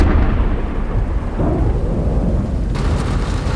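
Heavy rain pours steadily with deep rumbling thunder rolling underneath, a loud, continuous storm roar with no voices.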